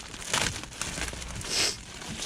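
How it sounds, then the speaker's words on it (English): A thin plastic bag is torn and crinkled off a brand-new cabin air filter for a Honda CR-V, giving close, scratchy crumpling bursts that peak briefly at two points with no talking. "I'm gonna take this plastic bag off."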